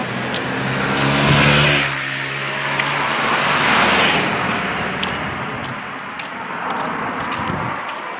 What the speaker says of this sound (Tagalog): Masyadong delikado. Malalaki yung mga sasakyan.